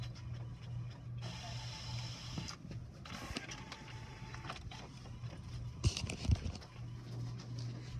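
Printer running at a car wash shop, a faint mechanical whirring and clicking in bursts, with a steady background hum and a few sharp knocks.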